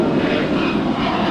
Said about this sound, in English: That is American Airlines Flight 2190 departing to Puerto Vallarta. It's an Airbus A321.